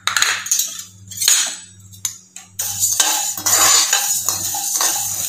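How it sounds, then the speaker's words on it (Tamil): Coriander seeds being dry roasted in a pan for rasam powder, with a spoon scraping and clinking against the metal in uneven bursts. The seeds rustle close by and fairly loud, and no one speaks. "மல்லி உள்ள சேர்த்து லேசாக வறுப்பட்டா போதும்"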